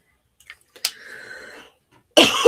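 A person coughs indoors during a casual crafts chat: a faint short cough, a brief throat sound and breathy rasp, then a louder harsh cough burst near the end, close to the microphone.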